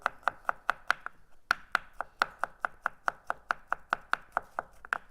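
A knife finely chops roasted garlic on a board in quick, close, regular taps, about twenty crisp strikes with a short pause early on, and no voices.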